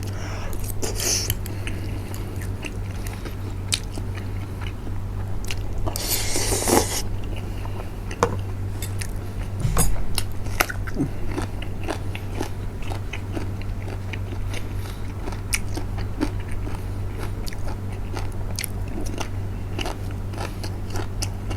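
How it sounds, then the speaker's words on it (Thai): Close crisp bites and crunchy chewing of very young, tender raw eggplant, a steady run of small crackling crunches over a low hum. "มะเขือโคตรอ่อน โคตรกรอบ"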